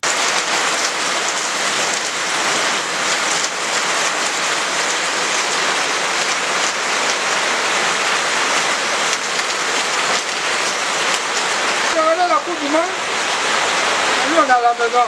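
Steady, heavy rain falling outdoors, a dense continuous hiss that holds loud throughout, with a voice speaking briefly near the end.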